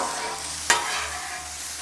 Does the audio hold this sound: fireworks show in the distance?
no